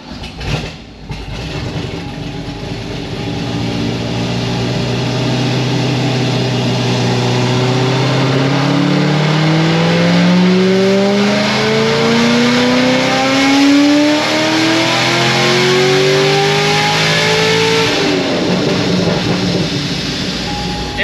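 A supercharged car engine on a dyno pull to about 6,900 rpm, revving loudly and steadily climbing in pitch for around fifteen seconds before easing off.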